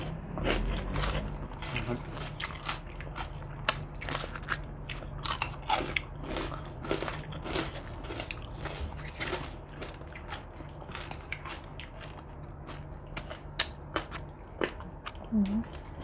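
Loud, crunchy chewing of spicy Thai papaya salad with cuttlefish, close to the mic, with repeated sharp bites and crunches over about sixteen seconds.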